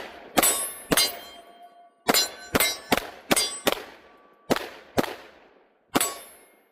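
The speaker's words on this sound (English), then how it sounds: "Let's try to shoot a little faster." Shots from a Taurus TH10 10mm pistol ring off steel targets, about eleven sharp metallic clangs at uneven intervals, some in quick pairs, each with a brief ringing decay, with no talking.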